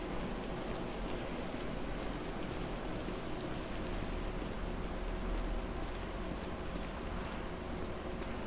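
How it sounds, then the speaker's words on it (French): Heavy rain falls in a steady, dense wash of noise that fills the whole stretch evenly, with no voices. "Il pleut quand même beaucoup ici."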